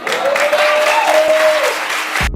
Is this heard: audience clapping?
yes